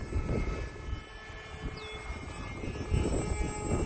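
A Hobbyzone Aeroscout S 1.1m RC airplane flies overhead outdoors with a faint, steady electric motor whine, mostly buried under gusty wind rumbling against the microphone.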